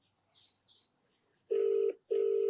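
A telephone call connects with a couple of faint soft beeps, followed by two loud, steady ringback tones separated by a short gap, with no voices.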